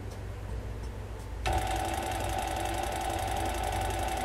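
An industrial sewing machine's servo motor kicks in and runs at a low 350 RPM, a steady whirring hum with a fine rapid ticking that starts abruptly and holds evenly, close and fairly loud.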